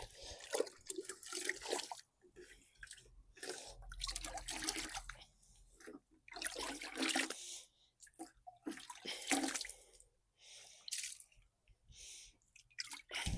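Cold water runs and splashes in a basin while raw wool is washed by hand, a close, uneven gushing with gaps and stirring noises, no talk.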